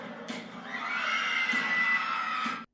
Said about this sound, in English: Gunshots and screams,